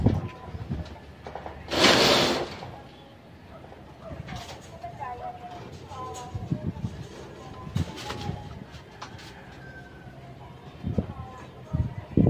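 Pet racing pigeons coo and stir outdoors while someone talks over them, with a burst of wing flapping early on and scattered soft coos and rustles throughout.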